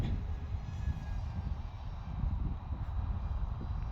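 A mini Eachine F22 Raptor four-channel RC jet plane flies at about sixty percent throttle, giving a steady low droning motor whir that stays fairly close and constant, with no speech.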